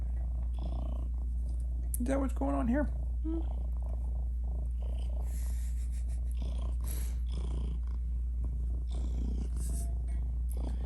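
A cat purrs steadily and low throughout, close up, while a person speaks briefly over it in a soft, questioning tone.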